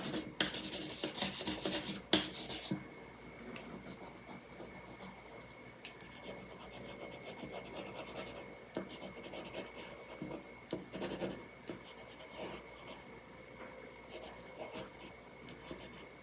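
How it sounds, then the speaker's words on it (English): Colored pencils scratch and rasp continuously across paper, with close, steady strokes at a low level and a few sharper scrapes early on. "now I'm gonna play around with these colored pencils"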